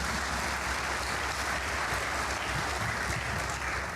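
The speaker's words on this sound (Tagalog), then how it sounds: "Tuloy niyo yung palakpak niyo." Sustained applause from a congregation at a Filipino church gathering, dense and even clapping holding steady at full level throughout with no talk over it.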